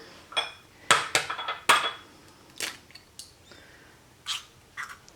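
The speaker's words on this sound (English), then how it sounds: "now I'm just going to go ahead and crack my egg into my jar" An egg cracks against a glass jar and drops inside, giving a few sharp close taps and clinks followed by lighter scattered clicks in a quiet kitchen.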